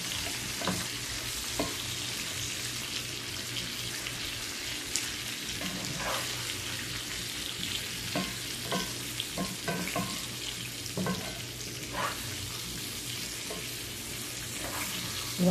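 Food fries in a pan on a kitchen stove, giving a steady, close sizzle scattered with small pops and crackles. No one speaks.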